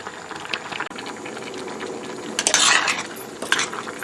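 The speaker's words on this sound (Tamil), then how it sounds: "இப்போ உப்பு எல்லாம் வழியாக கிண்டி போட்டு" A spoon stirs a simmering chickpea curry with salt and tomato in a metal pot. Close scraping and clinks against the pot sound over a steady bubbling sizzle.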